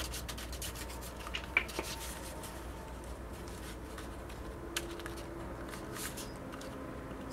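Glue being spread across paper for a scrapbooking photo basket, soft close rubbing and scraping strokes with a few light taps, faint and without talk.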